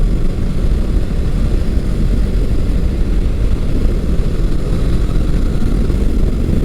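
Kawasaki Versys 650 first-generation motorcycle engine pulling hard under acceleration out of corners, a steady, loud, rumbling drone heard continuously and close, with no talking.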